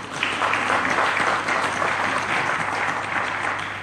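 A church congregation claps and cheers together in a steady, dense burst of applause that fills the room for a few seconds, with no single voice standing out.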